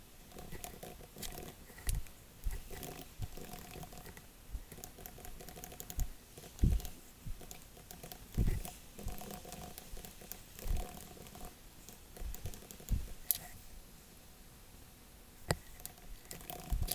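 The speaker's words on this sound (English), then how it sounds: "let's go ahead and type in those 7 lines" Typing on a computer keyboard in a quiet room, close and soft irregular key clicks with occasional louder taps and short pauses throughout.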